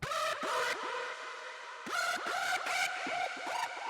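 Harsh, buzzy hardstyle synth screech stabs in short bursts, bending downward with gritty distortion, loud and up front with no voices.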